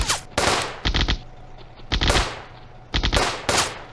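Bursts of rapid gunfire in the WW2 real-time strategy game Firefight, loud clustered cracks of machine-gun and rifle shots in several volleys close together, with no talking.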